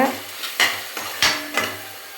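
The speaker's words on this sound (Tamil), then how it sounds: "நல்லா எண்ணெயில் அப்படியே எண்ணெய் பச்சை வாடை போடுறதுக்கு நல்லா கிண்டி விடுங்க" Ingredients are stirred briskly in hot oil in a pan while Sankara fish curry is being cooked, with three or four distinct scraping strokes against the pan above a soft sizzle, close and alone.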